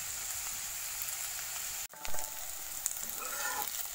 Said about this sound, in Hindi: देखिए गाइस, कितना बढ़िया से ये फ्राई हो चुका है।